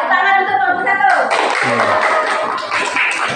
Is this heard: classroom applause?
yes